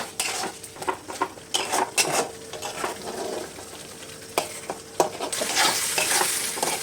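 Spice paste fries in oil with a lively, close sizzle while a utensil scrapes and stirs against the pan in repeated strokes, with no talking.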